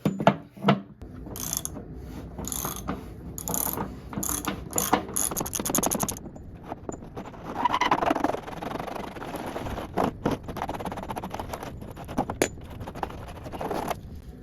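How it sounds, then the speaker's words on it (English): A ratchet wrench with a 38mm socket works a hot water heater's heating element loose, close and clear, in bursts of quick clicking from the pawl mixed with metallic handling noises and short pauses, with no talking. "it's time to go ahead and take that heating element out there. Happens to be a 38mm socket."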